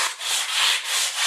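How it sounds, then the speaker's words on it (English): Fine abrasive paper rubbing back and forth across a high mandolin fret, a steady rasping stroke that swells and fades about every half second, close and alone. "sanding this way."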